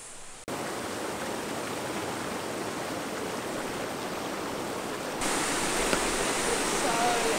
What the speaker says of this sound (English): It's a very beautiful waterfall we're staring at right